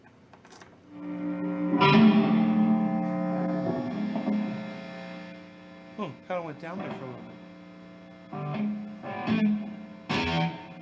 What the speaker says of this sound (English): So the reverb, you could change the reverb sound right here to this